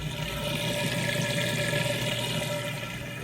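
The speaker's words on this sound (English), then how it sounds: "now we're moving out of the wash cycle, just draining that water out nice and fast" An Amana Whirlpool washing machine drains its water quickly after the wash cycle, a steady rushing, pumping gush heard close and alone.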